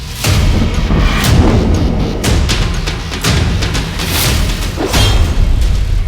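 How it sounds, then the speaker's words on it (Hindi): Ballistic missile strikes launched by Iran at Israel, with heavy booms and rumbling blasts that roll continuously through the air, several distinct detonations standing out amid sustained low thunder, loud and distant-sounding. "ईरान ने इजराइल पर दागी बैलिस्टिक मिसाइल।"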